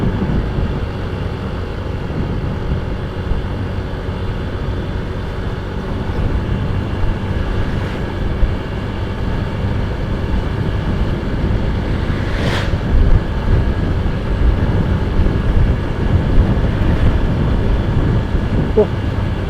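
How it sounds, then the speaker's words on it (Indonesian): Strong wind blows steadily across a roadside microphone on the mountain road from Ubud to Kintamani in Bali, a continuous loud rumbling roar with a few brief gusting flares. "Anginnya lumayan kencang ya di kawasan ini."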